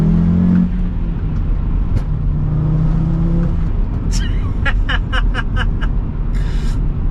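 Hard acceleration in a VW Caddy fitted with a swapped-in Audi RS engine, a loud in-cabin engine drone that builds and shifts, followed by bursts of short laughter-like voice sounds near the end.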